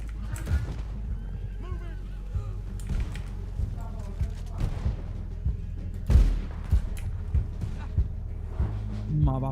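Red Dead Online gunfire pops in rapid bursts and scattered single shots, with game effects and frequent talking over the top.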